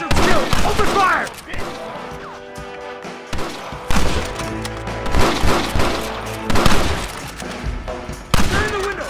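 Heavy gunfire in a Red Dead Redemption shootout: loud, dense volleys of rifle and pistol shots with booming impacts, close and continuous, mixed with shouted game dialogue.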